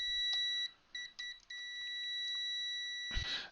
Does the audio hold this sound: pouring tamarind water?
no